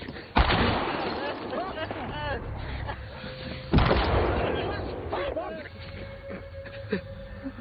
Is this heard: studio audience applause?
no